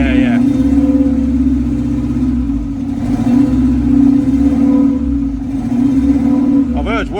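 A cold, long-unused old engine with individual throttle bodies idles unevenly with a low, loud, steady drone, while people talk nearby over it.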